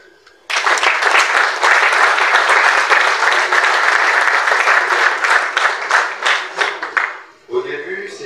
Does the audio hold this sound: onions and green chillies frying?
no